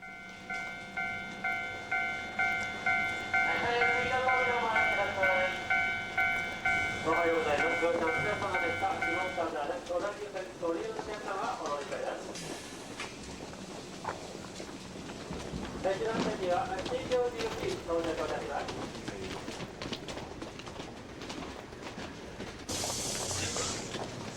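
Train station platform ambience in Japan, outside rush hour, with a train rumbling and clattering past, chimes or announcements, and faint voices in the background.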